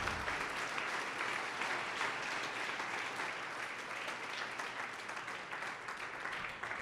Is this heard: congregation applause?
yes